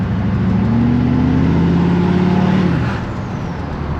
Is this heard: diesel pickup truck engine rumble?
yes